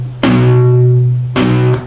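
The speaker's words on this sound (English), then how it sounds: "you can hear that it's muted the sound" Two palm-muted power chords on an electric guitar, each a short deadened strum with a damped, thudding decay, close and fairly loud with a brief gap between them.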